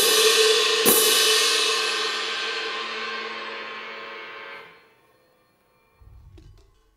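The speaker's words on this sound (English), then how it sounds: "Now, you may be familiar with the traditional cymbals that you use in bands and orchestras." Traditional band and orchestral cymbals give a single loud crash, a bright shimmering wash that rings for several seconds and fades into near silence, with a faint low thump at the very end.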